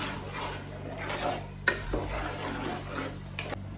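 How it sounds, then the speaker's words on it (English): Crayfish vegetable sauce being stirred in a pot, a steady scraping and rubbing of spoon against the pot with a few sharper clinks, close and moderately loud with no voices. "so I'm gonna stir together"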